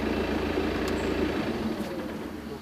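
A 2012 BMW 520d F10 diesel engine idles with a steady low rumble, its tone shifting slightly partway through; no one speaks.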